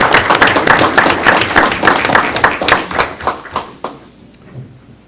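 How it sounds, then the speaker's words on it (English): Applause from a school board meeting audience fills a room loudly for several seconds, then thins to a few scattered claps and fades out. "Give them a round of applause."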